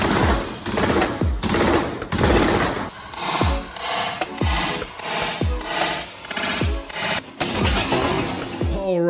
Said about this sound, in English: We're going to be talking about what it's like to shoot the HK MR556.